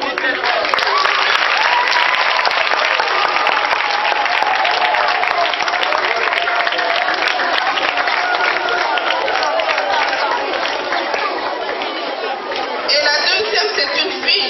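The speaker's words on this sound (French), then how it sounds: "On applaudit tellement" A primary school audience applauds a dictation contest winner with loud, dense clapping that holds for the whole stretch, while voices chatter and call out through it.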